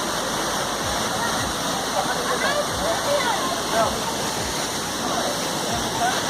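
A fast-flowing waterfall in North Sikkim gives off a dense, unbroken roar of rushing, crashing water, loud and close, steady for the whole stretch.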